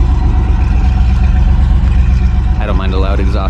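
Deep, throaty exhaust rumble from a 1993 Chevy 454 V8 idling nearby after a catalytic converter delete, steady and loud, with a voice speaking over it near the end.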